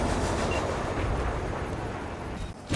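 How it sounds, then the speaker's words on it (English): A heavy train in the video game Cyberpunk 2077 rumbles and roars steadily as it leaves, a dense low mechanical drone that stays loud throughout, ending with a sudden clunk. "All right, the train's leaving."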